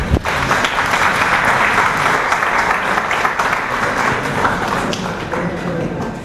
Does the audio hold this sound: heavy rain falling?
no